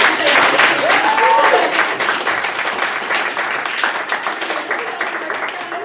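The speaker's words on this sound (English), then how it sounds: "Give them another round of applause" Audience applause after an opera performance at a Shades of Black event: a full, continuous crowd of clapping hands, briefly overlaid by a voice near the start, then tapering slightly in loudness.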